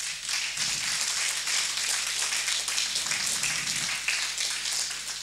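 A congregation applauding during a church service, with dense, steady clapping from many hands that stays even and fairly loud throughout, without any talking.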